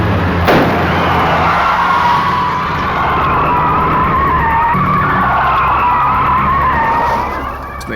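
Tyres skid loudly through a car chase as one car rams another from behind, a sustained screeching squeal over engine roar with a thud near the start, steady and close for the whole stretch.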